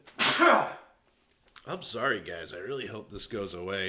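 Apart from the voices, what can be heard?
person sneezing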